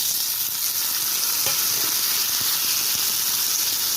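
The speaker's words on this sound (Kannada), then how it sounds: "2 ರಿಂದ 3 ಟೊಮೊಟೊ ಹಾಕ್ಕೊಂಡಿದ್ದೀನಿ." Chopped tomatoes added to fried onions in a pan for soya chunks gojju, frying with a constant bright sizzle and steamy hiss, broken by a few soft stirring knocks from a spoon.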